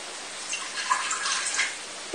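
A glass of water is poured into a pressure cooker pot, a soft, splashy trickle that runs steadily for about two seconds. It is faint and close, with no voices.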